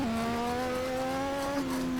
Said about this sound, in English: Oh, wheel spin, oversteer, all the steers.